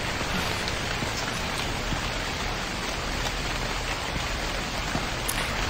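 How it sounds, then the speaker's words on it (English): Rain falls steadily in the video game The Convenience Store, a dense, even hiss of drops on surfaces that holds at the same level throughout with no voices. "I don't want to be caught in the rain."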